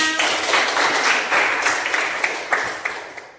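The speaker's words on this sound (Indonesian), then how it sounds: "tepuk tangan untuk Vina." A class applauds for a student named Vina, with a burst of lively, close clapping that thins out into scattered final claps over about three seconds.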